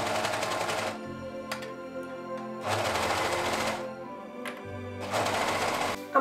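A sewing machine stitches fabric pieces together for a cosplay costume in three close, loud bursts of rapid whirring, separated by short pauses with faint handling sounds.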